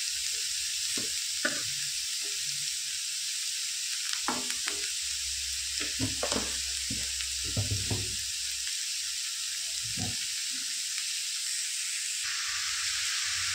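Steady hiss of momos frying in a pan over a high gas flame, with scattered stirring clinks and scrapes of a utensil against the pan and no talking.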